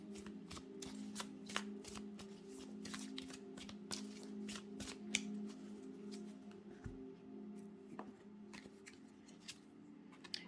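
Tarot and oracle cards shuffled by hand, a steady run of crisp riffling snaps and slides over a low background hum, close and moderately loud throughout with no talking.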